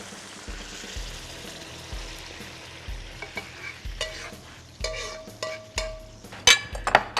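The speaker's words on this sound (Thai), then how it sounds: "เอาละซอสเราเดือดครบหมดแล้วเรียบร้อยครับ" Thai sweet and sour sauce with fried shrimp balls bubbling in a pan while being stirred, with low rhythmic scraping and sizzling that grows busier and louder toward the end, close up and without speech.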